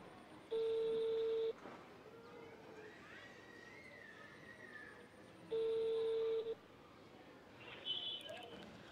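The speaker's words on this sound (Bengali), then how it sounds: "ফোন ঢুকছে, দেখি রিসিভ করে কি না।" Outgoing phone call ringback, two steady one-second tones about five seconds apart, heard over a quiet line with faint background murmur.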